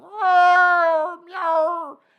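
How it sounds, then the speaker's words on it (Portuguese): A cat on a garden wall gives two loud, drawn-out meows close by, the first long and the second shorter after a brief pause, with nothing else heard. "miando pra caramba, e você não consegue dormir"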